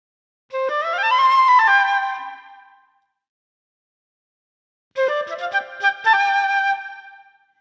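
Two short flute phrases from the Lamb Chop Loves Music video game, each a couple of seconds of breathy melodic notes, separated by a pause of silence, clear and alone.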